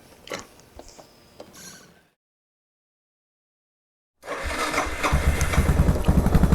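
A Suzuki DR650 motorcycle with modified carburetion, first some faint clicking and fiddling, then a pause of silence before the single-cylinder engine fires up and settles into a loud, steady, throbbing idle close by.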